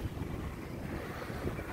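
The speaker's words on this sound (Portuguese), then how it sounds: "Você viu a força do vento?" Strong outdoor wind buffeting the microphone on a street in Japan, a constant low rumbling roar with no gaps and no talk.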